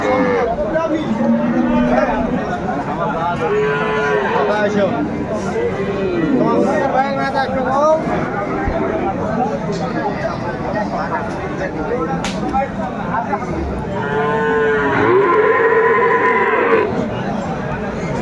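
Cows and calves moo repeatedly amid a busy outdoor livestock market crowd, with people chattering and calling throughout.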